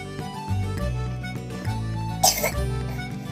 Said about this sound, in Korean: 요리사가 기침하면 안 되죠.